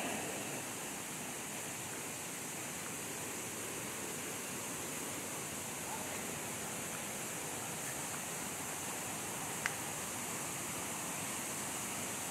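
Continuous rushing water from a river and waterfall on a mountain trail, a loud, even roar of broadband noise that holds steady throughout with no voices.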